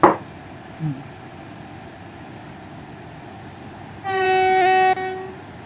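In the video game Train Sim World 3, a train on the Ramsgate to London Victoria run rumbles steadily along, then a long two-tone horn blares for about a second near the end before the running noise continues.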